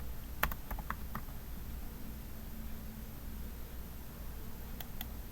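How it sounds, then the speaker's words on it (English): Typing student names on a computer keyboard: scattered, close key clicks in short bursts over a faint hiss, with a quiet gap between the groups of keystrokes. "So you type the names of your students here."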